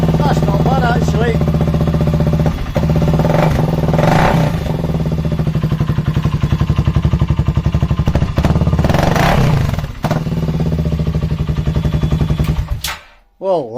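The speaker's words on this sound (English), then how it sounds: "I'm going to start it without the old silencer on." A new BSA Gold Star 650 motorcycle engine, idling loud and close with its silencer removed, gives a throbbing, popping exhaust beat that rises in a couple of revs before cutting off abruptly near the end.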